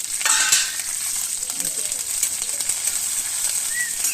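Onions and green chilies fry with ajwain in a steel pot, giving a loud, continuous sizzle with occasional stirring scrapes close by and no talking.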